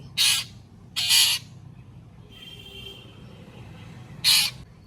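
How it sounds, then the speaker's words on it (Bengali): Harsh, loud bird squawks repeat three times at uneven intervals, with quiet gaps and faint background noise between them. "এই দেখো, ডেকেই যাচ্ছে পাখিটা"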